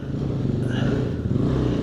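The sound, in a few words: Suzuki DRZ enduro motorcycle engine revving off-road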